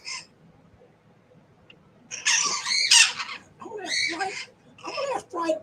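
Parrots give harsh, raspy squawks in short bursts, loud and close after a quieter stretch, with low background noise between the calls.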